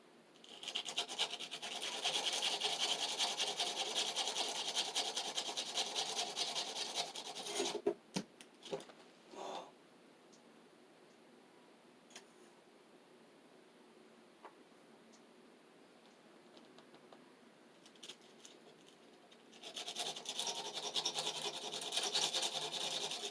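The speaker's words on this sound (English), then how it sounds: "I'll use my sandpaper here and sand the terminals so we get a good solder flow." Sandpaper rubbing electrical terminals to prepare them for soldering: a close, steady rasping scrub for several seconds, a quieter pause with a few faint ticks, then the scratchy sanding resumes at the end.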